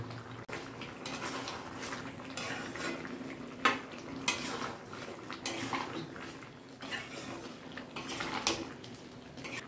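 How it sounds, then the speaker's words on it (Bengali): A spatula scrapes and clatters against a pan as fried potatoes are stirred in, irregular metallic knocks and scrapes coming in uneven bursts, close up, with a faint sizzle underneath. "আলুটা দেওয়ার পর আমরা হালকা করে এটাকে একটু নেড়ে দেবো"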